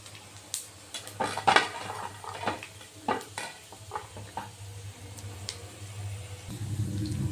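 Peanuts, chana dal, cumin and chilli frying in a pan, with a spoon scraping and stirring over a low sizzle, irregular clinks and scrapes of metal against the pan, close and steady.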